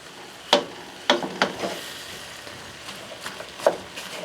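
Garlic starting to cook in a pan, with a handful of sharp crackles and pops standing out over a quiet, low sizzle, spaced irregularly across the stretch.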